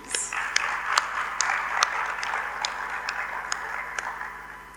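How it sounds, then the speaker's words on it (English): A school hall claps to welcome new Form 1 students at a 2025 orientation, with a steady wash of applause and sharper individual claps standing out throughout. "Can we give them a round of applause, please?"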